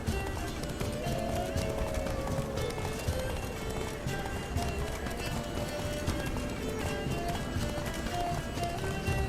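Rapid hoofbeats of a galloping horse in The Witcher 3: Blood and Wine run steadily throughout, with a brief whinny, inside a busy game soundscape.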